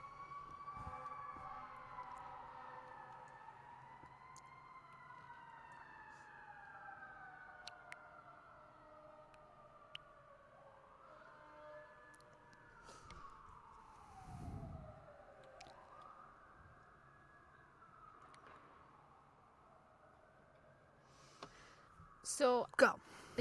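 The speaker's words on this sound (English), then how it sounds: "Hold on, there's an ambulance." An emergency siren wails with rising and falling sweeps, swelling as it draws closer and then fading away, heard behind a quiet indoor room with a few brief louder knocks near the end.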